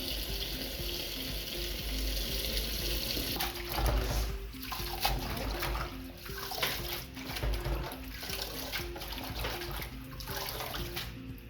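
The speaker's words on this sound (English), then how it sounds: "we are now going to wash our vegetables" Steady running water splashes continuously, with intermittent sloshing and clattering as vegetables are rinsed under the stream.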